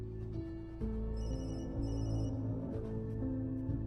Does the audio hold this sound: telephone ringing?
yes